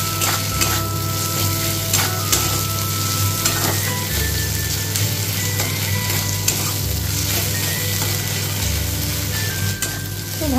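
Ginger paste sautés in a pan with a dense, continuous frying sizzle and occasional stirring clinks, heard close and loud over a low steady background hum.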